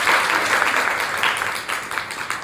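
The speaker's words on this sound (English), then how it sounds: "Clap for her again" An audience of students claps steadily after a classroom presentation, with dense, even applause that carries on without a break and no talking.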